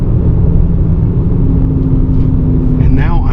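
A 2025 Ford Explorer ST accelerating hard from a standstill, its engine a loud, steady low rumble heard from inside the cabin, with a brief voice near the end.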